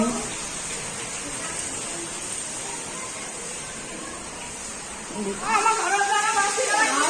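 Heavy rain pours steadily around a house that is being flooded, a dense constant hiss, with people talking over it toward the end.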